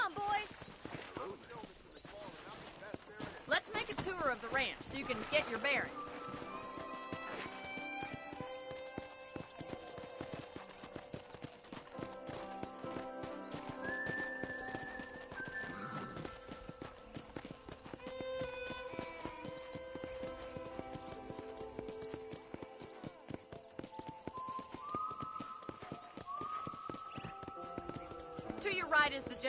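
Hooves clip-clop at a steady riding pace as a horse moves around a ranch in a video game, with a character's voice talking over the hoofbeats and background music throughout.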